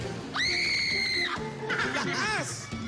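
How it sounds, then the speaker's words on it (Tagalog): A person on a live variety show lets out a long, loud, high-pitched scream lasting about a second, followed by excited shouting and laughter from others nearby. "Sige, sigaw!"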